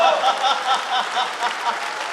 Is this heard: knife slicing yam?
no